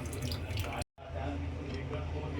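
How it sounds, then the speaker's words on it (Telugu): Tamarind juice poured into a simmering village-style fish curry, a steady wet splashing and trickling that runs close and continuous, broken by one brief silent gap partway through. "తర్వాత మనం ఈ సైడ్కి పెట్టుకున్న చింతపండు జ్యూస్ ఇలా పోసుకోవాలి."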